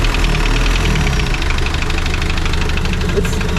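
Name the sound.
engine of Rusty the Spryte build running after first startup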